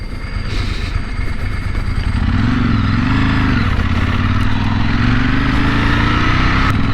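A 2001 Ducati 996 motorcycle engine runs steadily and loudly while being ridden, its note rising and falling slightly around the middle before settling into a smooth, sustained climb in pitch.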